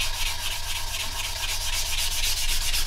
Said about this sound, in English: That's why we're using sponges now and not using a sanding stick, because the sanding sticks are a little bit too coarse.